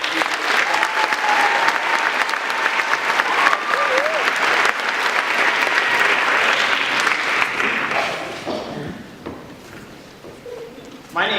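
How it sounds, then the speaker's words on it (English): A big crowd at a high school commencement ceremony gives sustained applause with cheers and whistles for around eight seconds, then it tapers off to scattered claps and murmuring voices. "can we get one more round of applause for everyone"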